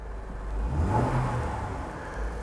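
A car engine idles during a diagnostic check while running slightly rich, a steady low hum that swells briefly before settling back, heard close with no talking.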